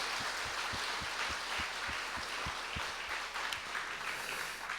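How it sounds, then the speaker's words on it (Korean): A Korean church congregation claps in thanks to volunteers, with steady, rhythmic applause that is fairly faint and distant. "우리 크게 박수로 고마움 표합시다."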